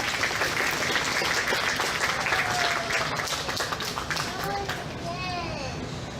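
Audience applause for young livestock exhibitors at a county fair cattle show: a steady wash of clapping from a crowd in an arena, with children's voices and chatter underneath that fades slightly toward the end.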